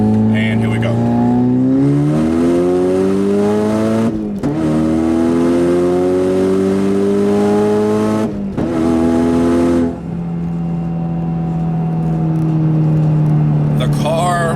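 A tuned 2015 Ford Mustang EcoBoost runs a hard acceleration pull from a low roll, engine pitch climbing steeply through gears with two sharp shift breaks, loud and close from inside the car, then settling into a steady drone.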